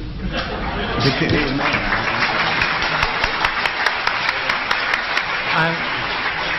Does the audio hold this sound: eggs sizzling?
no